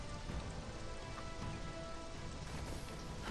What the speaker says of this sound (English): Oh my god, it's still raining.